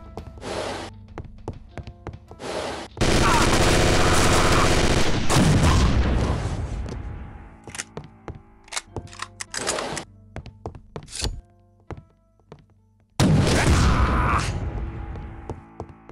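Video game Chaser combat in the Nippon Hotel level, with FAMAS rifle bursts and grenade explosions: sharp single shots and clattering rapid fire, two long roaring blasts, loud and close, with scattered impacts between them.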